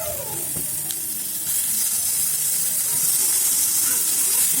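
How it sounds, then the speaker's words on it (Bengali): Chicken pieces frying with masala in a pan for a chicken curry, a steady loud sizzle and hiss that grows slightly stronger, with faint stirring scrapes beneath. "এখন চিকেন মশলার লগে ভালো করে মিক্স করুন আর মশলার লগে চিকেন আর অল্প সময় ভাজুন"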